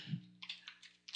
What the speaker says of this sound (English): I'm going to hit Control G on the keyboard to group them